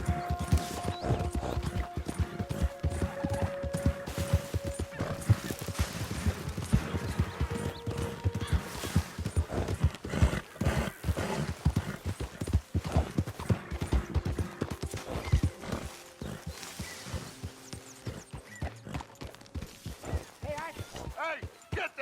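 Horse hooves clip-clop steadily in Red Dead Redemption 2 on PS5, a brisk rhythmic trot with a brief whinny, close and loud under game ambience while voices talk over it.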